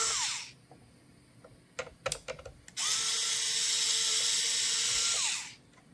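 Screws come out of a PS5 console's top plate with a small electric screwdriver whirring in short bursts, then one long steady whine, close up, with a few light clicks of parts being handled in between.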